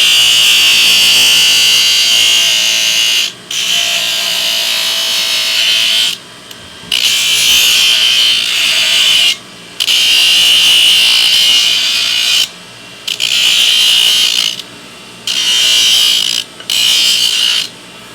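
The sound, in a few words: grinder grinding a horseshoe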